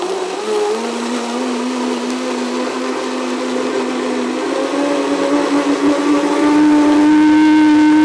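A blender whirs steadily while mixing Nutella oat cake batter with dates and boiling water, its motor pitch rising slightly as the blend thickens, loud and close with no voices.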